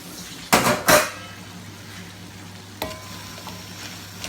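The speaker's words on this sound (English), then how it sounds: "I'm adding the potatoes. As you can see, they're cut into small size cubes." Small cubed potatoes tumble into a cooking pot with two loud, rattling bursts, then a softer sizzle and hiss with a later clatter and scrape of stirring, close by and without talking.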